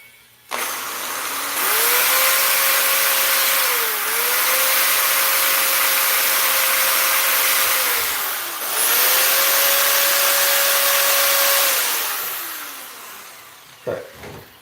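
A loud power tool sharpens a woodworking tool during a large flower vase project, giving a close, high rushing whine in three long sustained passes with brief dips between them.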